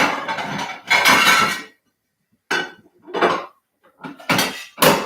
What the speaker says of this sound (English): get the dishes out.